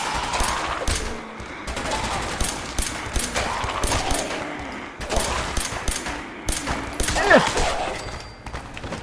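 Fallout 4 gunfire in repeated sharp bursts and single cracks through a busy combat scene, close and loud, with a voice talking over parts of it.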